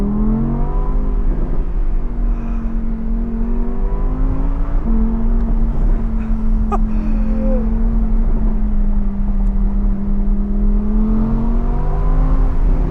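Audi R8 V10 engine revving with a deep, steady drone that holds and shifts pitch over several seconds, loud and close, with no voices over it.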